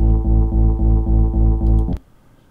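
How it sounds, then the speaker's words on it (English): Synth bass line made in LMMS and cut into short stabs, pulsing in a fast, even rhythm, loud and deep, for about two seconds before stopping abruptly. "I'm going to take this bass line, and I'm going to add, and I'm going to turn it into stabs."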